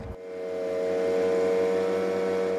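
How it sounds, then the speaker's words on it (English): A concrete road grinder fitted with diamond-tipped blades cuts down bumps in a road surface, its engine starting and then holding a loud, steady droning whine with faint rhythmic pulsing, heard alone. "This grinder is, uh, it has diamond tip concrete blades"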